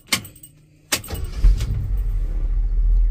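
A 1973 Ford F350 Super Camper Special truck engine cranks with a couple of sharp clicks, then catches and settles into a low, rumbling idle, close and loud.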